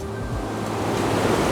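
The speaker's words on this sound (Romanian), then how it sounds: "Aici este o cascadă." A waterfall on a mountain river in the Bicaz Gorge of Romania gives a steady, broad rushing roar close by, with no voices over it.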